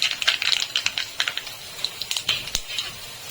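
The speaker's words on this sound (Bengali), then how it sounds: "এর ভিতরে আমি দেবো খানিকটা সর্ষে আর একটা শুকনো লঙ্কা ফোড়নে দিয়ে দিলাম।" Mustard seeds and a dried red chilli spluttering in about a spoonful of hot oil: rapid close crackling pops in an uneven patter, fairly loud, with no voices.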